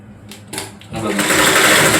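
An electric sewing machine stitching a blouse gives a few short starts, then settles into a loud, steady whirring run at close range.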